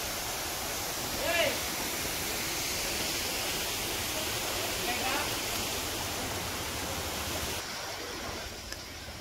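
Water rushes steadily at Bheemuni Paadam waterfalls near Warangal, a broad continuous roar that holds throughout and drops slightly near the end, with faint voices mixed in.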